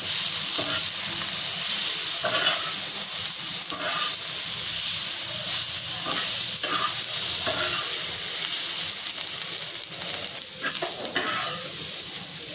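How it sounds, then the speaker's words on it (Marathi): Onions, four green chilies, ginger and garlic roast in a hot pan for vegetable biryani, a loud, steady sizzle with repeated scraping stirs from a spoon throughout and no voices. "मिरच्या चार घेतलेल्या आहेत आळं आणि लसूण घेतले ते पण त्याच्यामध्ये भाजून घेते"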